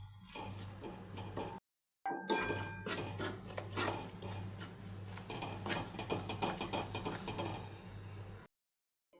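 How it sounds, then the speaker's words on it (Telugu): Gram flour roasting in a pan on a low flame, heard as repeated scraping and clinking of a spoon against the metal pan, fairly faint, with a brief silent gap near the start and a cut at the end. "సన్నటి మంట మీద శనగపిండిని బాగా వేయించుకోవాలి"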